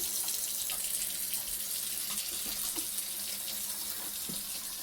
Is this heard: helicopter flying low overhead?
no